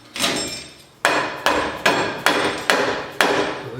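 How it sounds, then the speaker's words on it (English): A hammer taps a bearing into a Ford 8-inch axle housing, six sharp metallic strikes in a fairly even rhythm, close and loud with short ringing decay and no talk. "you're just basically tapping the bearing into the axle housing"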